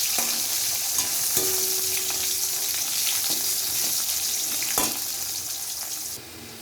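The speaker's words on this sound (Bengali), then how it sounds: "করলাগুলো আমি একটু কড়া করে লাল লাল করে ভেজে নেবো" Bitter gourd slices frying crisp and reddish in a pan of hot oil, a steady close sizzle with occasional stirring scrapes, no voices.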